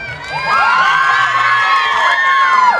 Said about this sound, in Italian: ancora un forte applauso, ciao Enzo!